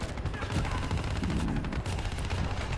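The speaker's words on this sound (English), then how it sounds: "Blind fire, blind fire, blind fire." Rapid, sustained gunfire crackles in dense bursts, a Black Ops 3 campaign firefight with constant popping and booming filling the whole stretch.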